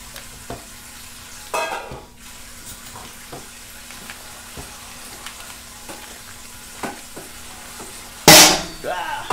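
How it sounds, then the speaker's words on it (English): Butter melts in a pot for potato leek soup, a soft low sizzle under scattered clinks and stirring taps, ending with a sharp loud clatter near the close. "we're gonna start melting down the butter"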